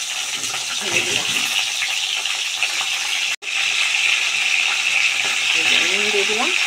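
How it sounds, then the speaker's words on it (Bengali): Pointed gourd and potatoes fry in hot oil, giving a steady, close broadband sizzle that runs throughout with a brief dropout midway, while a voice talks faintly near the end. "পটল আর আলুগুলো দিয়ে দেবো, দিয়ে ভালো করে লাল করে ভেজে নেবো"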